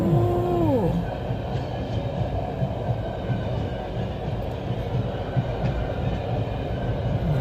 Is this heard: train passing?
yes